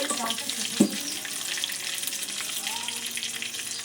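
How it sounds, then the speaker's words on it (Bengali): Whole spices and bay leaf sizzle in hot mustard oil for a Bengali veg dal, a steady close frying hiss with one brief knock early on, no talk. "ওই তেলে একটু সর্ষের তেল দিয়ে দিলাম আর ফোড়নে দিয়ে দেবো তেজপাতা গোটা গরম মশলা এলাচ লবঙ্গ দারচিনি"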